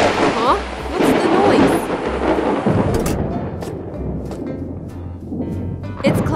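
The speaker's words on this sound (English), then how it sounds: "Thunder and lightning ahead!" Thunder rumbles through a stormy, cloudy sky outdoors, a loud rolling roar for the first few seconds that fades to a softer grumble before a sharp crack near the end.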